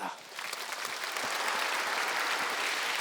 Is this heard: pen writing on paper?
no